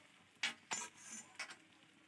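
Chow mein noodles go into a small wok with cooked chicken, and a few sharp scrapes and clatters of stirring sound up close over a faint background.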